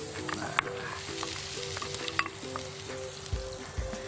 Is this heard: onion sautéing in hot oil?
yes